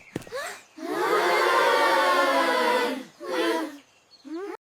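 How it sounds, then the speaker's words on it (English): A family cheering before packing for a jungle tour, a loud sustained burst of joyful shouting lasting a couple of seconds, then a shorter second cheer and a brief call at the end. "They cheer and rush to pack."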